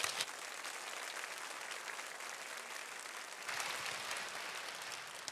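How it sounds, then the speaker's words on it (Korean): Steady applause from a church congregation welcoming the senior pastor at a summer Scripture prayer gathering, a dense wash of clapping that holds evenly throughout and swells slightly near the end, with no voices over it. "박수로 맞이하겠습니다"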